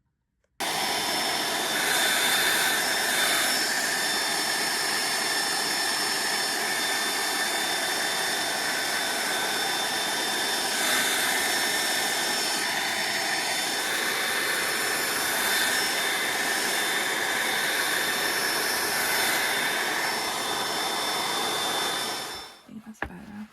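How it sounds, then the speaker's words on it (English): A blow dryer blasts hot air onto wet paint on an art project, a loud, steady whooshing drone that runs unbroken for about twenty seconds and then shuts off near the end. "hit it with the blow dryer to heat up, to accelerate the drying process."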